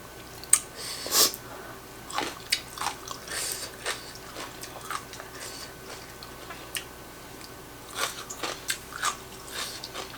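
Spicy papaya salad made with konjac noodles, long beans and fish balls being eaten up close, with crisp bites and wet chewing recurring in short bursts and faint breaths between them.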